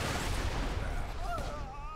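A Torgue gun fires in Borderlands 2, producing a steady stream of heavy booming blasts layered over one another, with a rising whine in the second half.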